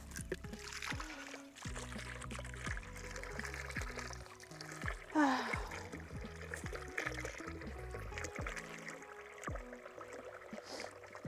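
Water runs and trickles into a container at a homestead farm, a quiet continuous flow with small splashes and a few irregular knocks and clunks around it.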